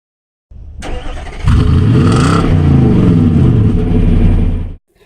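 A 2017 Nissan Titan pickup truck cranks briefly, then its engine catches with a loud rev that settles into a steady, close idle before cutting off.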